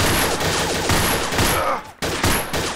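Allied SMG 26-40 submachine gun fired in the VR shooter Gun Club VR: loud, rapid automatic bursts with sharp cracks, a brief pause, then another burst.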